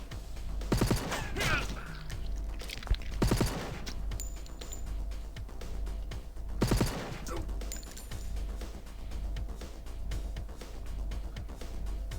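SMG gunfire during a boss fight in the sci-fi video game Stellar Tactics, rapid bursts of shots at intervals over a continuous low background rumble, with short mechanical clicks between.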